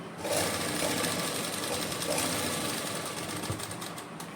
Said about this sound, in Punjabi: ਤੇ ਹੁਣ ਆਪਾਂ ਨਾਲ ਨਾਲ ਸਿਲਾਈ ਲਾਵਾਂਗੇ